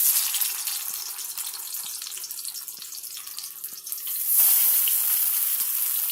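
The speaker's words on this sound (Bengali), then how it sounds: "তো এখানে আমার তেল গরম হয়ে গেছে, এবার আমি এই পুর ভরা করলাটা আমি আস্তে করে ছেড়ে দেবো।" Stuffed bitter gourd lowered into hot oil in a kadai, giving a steady watery hiss that swells into a louder sizzle partway through, with faint clicks of utensils.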